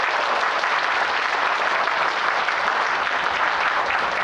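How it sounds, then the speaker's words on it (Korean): An audience at a lecture gives the professor a sustained round of applause, a dense, even roar of many clapping hands that stays at constant strength from start to finish, with no voices on top. "긴 시간 동안 강연을 진행해 주신 우리 김누리 교수님께 다시 한번 힘찬 박수를 보내주시기 바랍니다"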